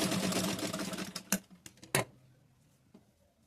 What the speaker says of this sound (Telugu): ఇటువైపు రెండు వైపులా లూజ్ కుట్టు వేసుకున్నాను.